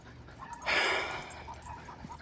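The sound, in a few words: dog panting and whimpering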